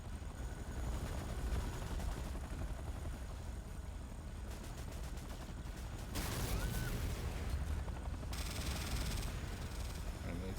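Infantry gunfire in the Command & Conquer: Renegade shooter, with bursts of rapid shots over dense battlefield rumble and engine noise, the firing growing louder and harsher in the later seconds.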